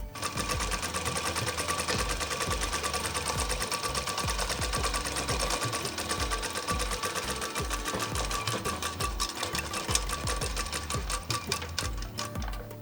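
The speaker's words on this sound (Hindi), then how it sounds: "तो हम अभी इसकी डबल सिलाई कर लेंगे" Sewing machine double-stitching the fitting seam of a kurti during a tailoring lesson, a fast, steady, close mechanical chatter running without pause throughout.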